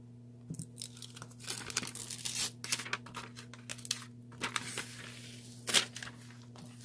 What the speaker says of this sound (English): Let's peel back this liner.